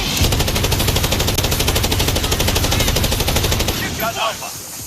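Rapid, dense automatic gunfire from a tactical team shooter video game, loud and sustained for about four seconds before easing off into scattered impacts and faint callouts.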